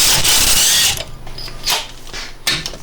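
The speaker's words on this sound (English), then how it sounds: "So we're going to go ahead and take that bolt off." Power tool spinning off a suspension bolt on a 2002 Honda Civic during a front ball joint job, a loud burst of whirring for about a second followed by quieter clicks and brief ratcheting bursts.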